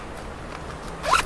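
A zipper on a leather-finish handbag is pulled once, a short close rasp that ends in a brighter zip.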